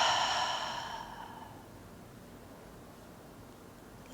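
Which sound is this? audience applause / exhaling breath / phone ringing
exhaling breath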